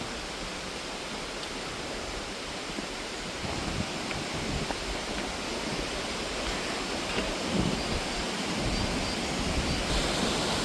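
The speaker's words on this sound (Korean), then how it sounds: "쌍폭에서 3분가량 올라가면 용추폭포에 도착합니다." Yongchu waterfall on Dutasan mountain in Donghae roars as a steady, broad rush of falling water, heard from a distance and continuous throughout.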